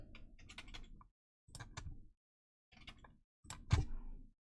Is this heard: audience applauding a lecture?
no